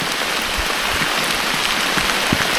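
Steady, even patter of summer rain falling on a surface, a continuous wash of drops with no voices.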